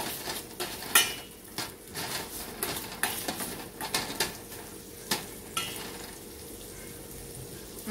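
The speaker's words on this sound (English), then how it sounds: "Put these onions to cook down in some butter." Chopped onions cooking down in butter in a pan, heard as repeated close clinks and scrapes of a spoon stirring against the pan over a faint, steady sizzle.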